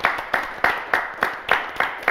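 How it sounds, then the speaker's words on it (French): An audience claps in a steady rhythm of about eight sharp, evenly spaced beats, close and moderately loud, at a live televised show. "On va l'applaudir quand même, Laurent."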